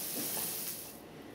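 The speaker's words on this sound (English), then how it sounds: "we'll take it out and let it rest for a few minutes on the cutting board while we saute these shiitake mushrooms and a little bit of shallot" Shiitake mushrooms and shallot sautéing in a pan give a short, steady sizzling hiss that fades slightly toward the end, heard up close with no talking.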